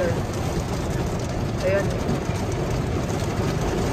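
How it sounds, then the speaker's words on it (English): Heavy rain and hail hammer a car during a severe thunderstorm on the drive from Drumheller toward Calgary, Alberta, a loud, dense, continuous roar filling the cabin, with a brief spoken word over it. "Nabutan kami ng malakas na ulan. Nag-hailstorm."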